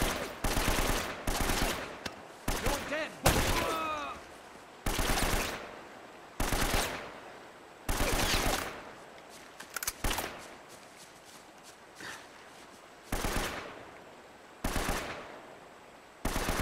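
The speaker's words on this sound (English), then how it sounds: "I've got no idea who's shooting at me or where they would be" Machine gun fire in Uncharted: Drake's Fortune, loud bursts repeating every second or two across the whole stretch, with brief quieter gaps between volleys and no talk over it.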